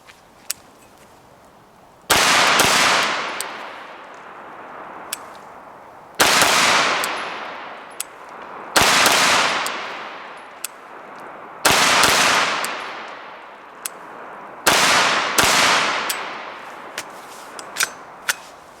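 Rapid strings of gunshots come from an Angstadt Arms UDP-9 pistol fired fast at a range target. The loud, sharp cracks arrive in five bursts of several quick shots each, separated by short pauses.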